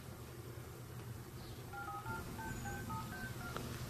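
Telephone number being dialed, a quick series of about eight short DTMF keypad tones, faint over a low background hum, with no voices.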